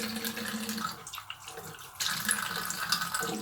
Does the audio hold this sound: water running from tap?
yes